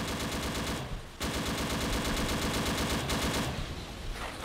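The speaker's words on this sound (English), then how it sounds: "Oh, that's a lot of firing." Sustained heavy gunfire in the Dino D-Day video game, dense rapid automatic shots with brief gaps, loud and continuous over several seconds.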